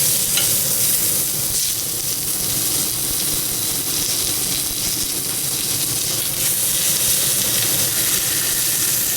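Pork tenderloin sears in a pan over high heat with a thin coat of fat, giving a loud, constant crackling sizzle that stays even throughout with no voices.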